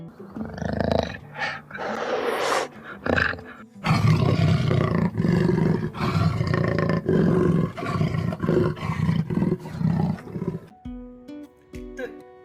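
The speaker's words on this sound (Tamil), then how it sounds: "Second Jaguar. அதோட சவுண்ட் இப்படி தான் இருக்கும்." A jaguar roars in deep, rasping, repeated grunts, loud and close, a heavy rumbling series that pauses briefly before fading out.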